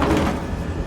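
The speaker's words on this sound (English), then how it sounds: "At least the other doors that are closing are locking" A door shutting in a horror video game set in a place called Madison, a short dull thud with a lingering broadband rumble that fades over under a second, heard alone.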